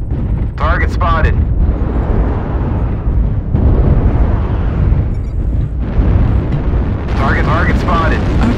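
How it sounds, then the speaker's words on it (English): Heavy artillery strike explosions in a video game on a polar highlands map, deep rumbling booms rolling one after another, loud and close, with a synthetic voice announcing alerts over them. "Artillery strike online. Artillery strike activated."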